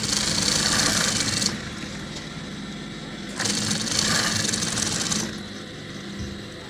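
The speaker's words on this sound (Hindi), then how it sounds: "इसके बाद आपने इसके ऊपर एक सिलाई लगा लेनी है," Close, loud whirring of a sewing machine stitching a kurta, two bursts of rapid needle action with a quieter running pause between them and a fainter hum at the end.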